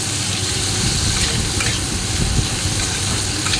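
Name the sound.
onions frying in a pan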